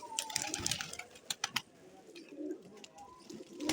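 Domestic pigeons at a haveli flap and land, with quick bursts of wing claps and soft cooing, moderately near, over faint background noise.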